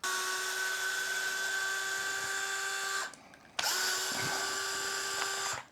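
A power driver whirs steadily as it backs screws out of a Traxxas Slash RC car bumper, running for about three seconds, stopping briefly, then whirring again close up.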